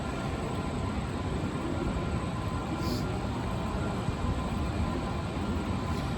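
Continuous low rumble of a moving passenger train on a Pennsylvania vacation outing, steady and fairly loud, with no voices over it.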